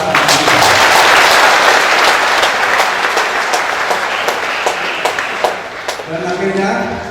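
A crowd at a Christmas Eve church celebration breaks into loud, sustained applause that gradually thins, with voices talking over and after the clapping.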